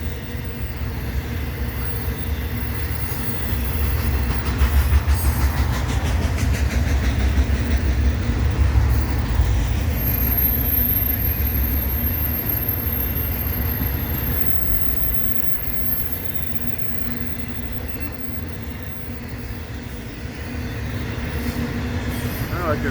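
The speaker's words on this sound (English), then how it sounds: "This might be a Z train." A westbound intermodal freight train rolls past in Hesperia, its loud, steady rumble filling the whole stretch, with a thin high wheel squeal rising partway through.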